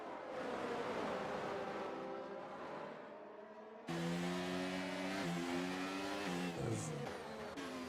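F1 race cars running side by side in an F1 23 league race at Brazil: high engine whines hold steady, then jump sharply louder and shift pitch as the cars sweep through a fast right-hander, with a brief tyre squeal near the end.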